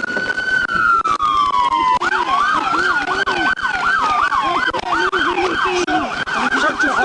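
An ambulance siren wails close and loud, first a long falling tone and then a fast repeating up-and-down yelp, continuous over traffic rumble during a police pursuit.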